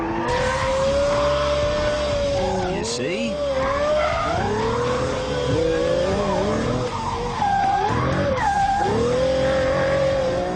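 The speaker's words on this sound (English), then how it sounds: "I can report that the F-Roadster is pretty agile through the corners." A Pagani Zonda F Roadster corners hard on a track, its tires squealing in long wavering screeches over the engine's drone, loud and close, as someone speaks briefly.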